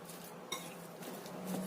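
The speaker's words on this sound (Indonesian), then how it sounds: "Ini kita aduk semua jadi satu sekalian." A utensil stirs ingredients together in a bowl, a quiet, soft scraping with one sharp clink of metal against the dish, heard close and faint.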